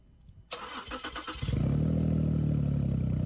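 A Ford 3.5 EcoBoost engine cranks over with a short burst of starter chatter, catches, and settles into a loud, steady idle with a constant drone and whir close by.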